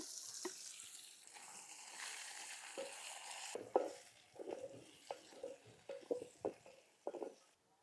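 Chopped onions, two small ones, fry in a pan for cashew paneer masala, giving a steady hiss with scattered clinks and scrapes of stirring and a brief water-like rush early on; no voices.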